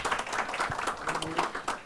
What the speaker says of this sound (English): Let's give Alex another round of applause.